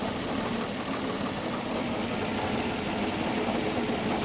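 A 1967 Mustang engine idles right after an exhaust manifold gasket replacement, giving a steady, broadband mechanical hum and rumble at even volume throughout, close up and with no voices.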